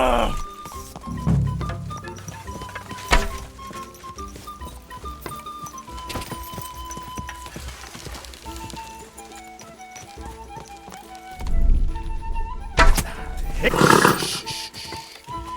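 Horse hooves clip-clopping in the medieval video game Kingdom Come: Deliverance II, a steady run of hoofbeats under game music and ambience, with louder bursts of action near the end.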